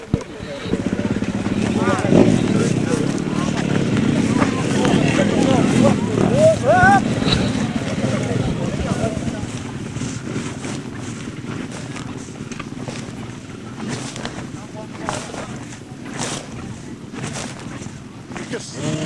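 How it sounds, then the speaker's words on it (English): Enduro motorcycle engines warm up together on the start line at a Lincolnshire Enduro Championship round, a massed rumbling drone heard outdoors with wind buffeting the microphone while someone talks over it. "Guys are warming the engines."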